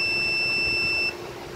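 An ohm meter emits a single steady continuity beep on a wire from a Toro TX 1000 Dingo, a clear electronic tone lasting about a second before cutting off, over quiet room background.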